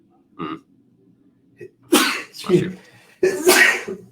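A person sneezes sharply several times in a row, close by, with a brief murmur before the sneezes.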